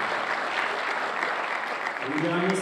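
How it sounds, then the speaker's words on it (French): Audience at a Moroccan real estate fair applauding, a dense continuous patter of clapping with a voice surfacing briefly near the end. "On les applaudit, merci beaucoup."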